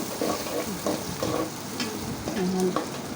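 Onions fry in oil in a pan as the first step of a rui fish and potato curry, giving a steady, soft sizzle broken by occasional stirring scrapes.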